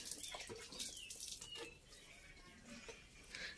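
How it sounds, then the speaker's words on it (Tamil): Water splashes and runs as a Sindhu cow's udder is washed by hand in a village before milking, a close, continuous pouring and sloshing with faint bird chirps behind. "அந்த பால் மடியை தண்ணி ஊற்றி நல்லா கழுவிட்டு இருக்காங்க."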